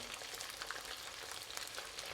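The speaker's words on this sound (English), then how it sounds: "Let's just now fry them to a light golden brown." Steady, dense crackling and hissing of chicken deep-frying in hot oil, continuous and close with no voices.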